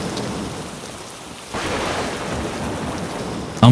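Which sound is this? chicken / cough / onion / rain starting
rain starting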